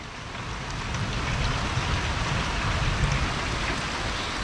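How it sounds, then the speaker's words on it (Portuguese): Heavy rain pours down on a fish farm during a thunderstorm, a dense, steady hiss of drops hitting close by and loud throughout, with no talking. "Meu Deus do céu, que chuva!"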